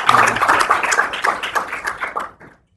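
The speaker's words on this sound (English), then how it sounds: "I think we'd like to give you a note of applause" An audience applauds a guest named Jim at a talk, a short burst of hand clapping that starts full and thins out before stopping after about two and a half seconds.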